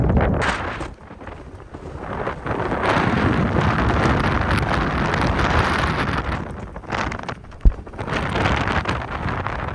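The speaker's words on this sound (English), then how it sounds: "It's so windy" Strong gusting wind roars and buffets against the microphone almost without pause on a Lake District mountain top near Fairfield, with a brief sharp knock partway through.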